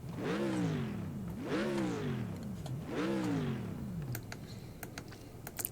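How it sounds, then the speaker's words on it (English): A deep, throaty V8 engine in a racing video game revs up three times in quick succession, each rise falling away, followed by some faint clicking. "Nice throaty V8."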